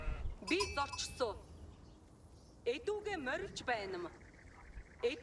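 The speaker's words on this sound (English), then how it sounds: "You get sheep down there." Sheep bleat in the Age of Empires video game, a few short wavering bleats at moderate volume over a quiet ambient background, with a person talking briefly.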